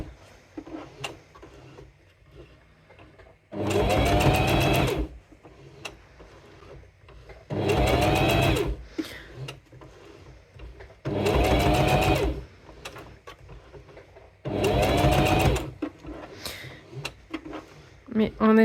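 A sewing machine stitches terry cloth over pins in four distinct bursts of about a second and a half each, loud and close, with quiet handling noises and faint speech between the runs.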